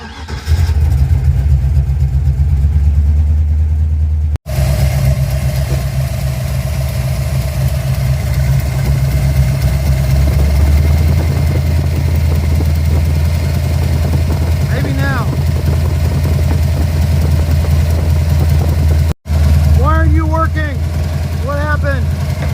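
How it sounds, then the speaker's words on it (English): An engine fitted with an Edelbrock 1405 carburetor idles loudly and close with a steady low rumble, briefly cutting out twice. "Maybe it'll hold an idle now."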